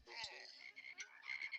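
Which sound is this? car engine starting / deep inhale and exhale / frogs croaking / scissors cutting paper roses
frogs croaking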